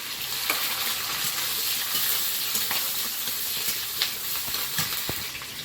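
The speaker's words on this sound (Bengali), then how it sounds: "তেলের মধ্যে একটু কালো জিরে কাঁচা লঙ্কা পেঁয়াজ কুচি" Black cumin, green chili and chopped onion fry in hot oil in a kadai, a dense continuous sizzle up close with light stirring clicks and no voices.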